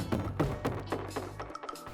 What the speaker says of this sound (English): Then a little fill.